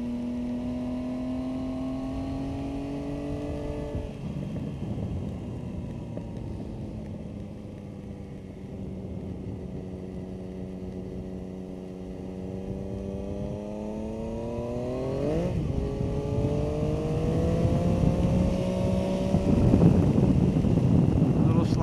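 A car on the NJMP Thunderbolt race track, driving in a slippery session, revs up steadily and holds a loud engine drone with rising and falling pitch through gear changes. Wind buffets the microphone throughout.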